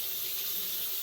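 Tap water runs in a steady, even hiss while hair is rinsed during a shampoo for reattaching locs. The flow is continuous and close, with no voices.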